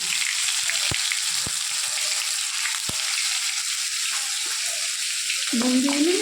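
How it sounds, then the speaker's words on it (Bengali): Hot oil spatters loudly as spices fry for vegetarian chana masala. A dense, constant sizzle is broken by a few sharp pops, and a voice briefly enters near the end. "নুন দিয়ে নিলে চারিদিকে যে তেলটা ছিটছে, চারিদিকে তেলটা ছেটাবে।"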